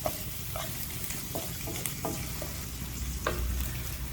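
Kebab karahi masala is stirred in a frying pan over a steady low sizzle, with a spatula scraping and tapping irregularly against the pan and no voices.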